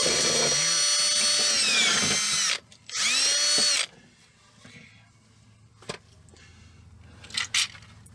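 A power tool whirs loudly in two bursts, cleaning bolt threads on the engine of a 2006 Volvo S80 T6 with the 2.9L B6294T, then fainter clinks and taps follow.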